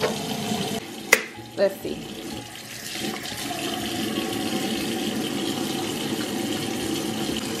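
A bathroom tap runs during handwashing with gel soap: a steady, close rush of water after a couple of clicks and knocks, with a person briefly speaking.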